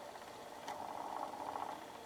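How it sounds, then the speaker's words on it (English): Faint, steady whirring and rattling from an old 8-track cartridge running in a Sears 28666 8-track player, a tape unplayed for about 40 years; a low continuous mechanical noise. "That noise is coming from the 8-track cartridge."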